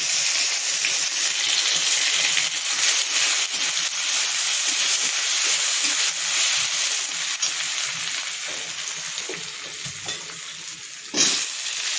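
Chopped ginger, bay leaf, dried chili and five-spice seeds sizzling loudly in hot oil, a dense, steady crackling hiss close up, easing slightly near the end with a brief clatter.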